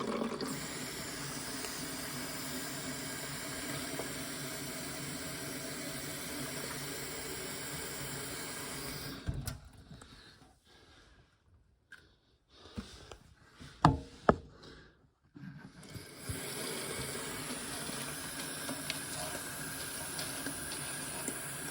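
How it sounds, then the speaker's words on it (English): Tap water runs steadily into bottles, then stops for a few seconds broken by a few knocks and clunks before the flow starts again and keeps filling. "I'm gonna fill them with the water used here"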